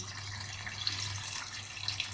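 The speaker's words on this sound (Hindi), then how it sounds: "थोड़ा सा पानी इसमें ऐड कर दें" A steady stream of water running and splashing into a cooking pot of biryani, close and fairly soft, with a low hum underneath.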